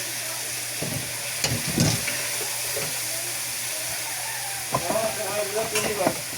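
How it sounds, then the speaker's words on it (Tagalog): Calamari (squid) frying in a pan, a steady sizzle with occasional stirring and scraping noises, soft and close. "Luto muna kami."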